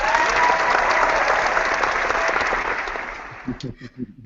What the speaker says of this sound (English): really want to give Terry a round of applause for supporting everyone and gracing us all with your presence